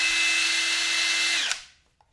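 Cordless impact driver, a generic brand, running free in high torque mode: a steady loud high-pitched whine held for about a second and a half, then an abrupt stop as the motor winds down to silence.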